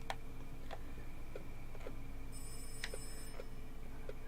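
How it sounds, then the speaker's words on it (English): A telephone rings in the horror video game Rise of Insanity, a faint, repeating ring over a constant low ambient hum, with soft ticking clicks spaced through it and a brief high electronic tone midway. "Phone's ringing."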